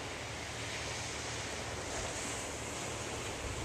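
Atlantic Ocean surf rolling in steadily, a broad continuous wash of breaking waves with some wind buffeting the microphone, no voices.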